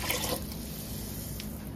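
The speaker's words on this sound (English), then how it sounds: "So, we're putting our water now." Tap water running steadily into a big cooking pot for white rice, a continuous close splashing fill with a low hollow rumble and no talking.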